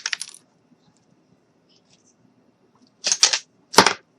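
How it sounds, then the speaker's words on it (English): Cutting a standard wooden popsicle stick for a doll craft, heard as a short snap followed by a pair of sharp clicks and crunches near the microphone in an otherwise quiet room. "we're just going to cut a standard popsicle stick"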